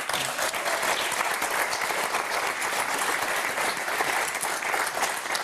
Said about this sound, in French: Et rien que pour ça, on va les applaudir.